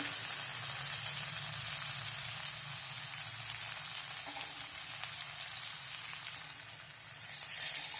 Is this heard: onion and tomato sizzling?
yes